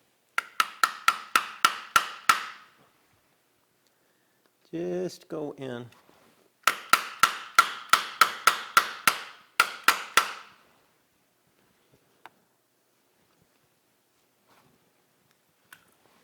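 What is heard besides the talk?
soft hammer tapping metal blocks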